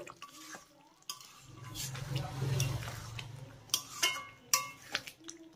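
Ghee and garam masala being stirred into a soybean and potato curry in a pan, with soft scraping and clinks of a spoon against the metal and a quiet sizzle underneath, plus a few sharper taps near the end.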